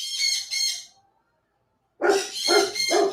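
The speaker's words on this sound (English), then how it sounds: "That's why the dogs are barking." Dogs barking inside a house, close and loud: a quick pair of barks, a pause of silence, then three more barks in a row.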